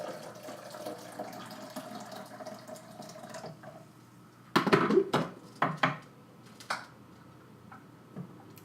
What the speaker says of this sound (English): I just pour it right on my spoon just to melt the honey off.